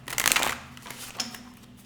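A quick riffle of tarot cards being shuffled close by, a dense burst of crisp flutter followed by a softer second ripple.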